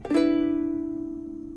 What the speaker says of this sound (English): G6 sounds like this.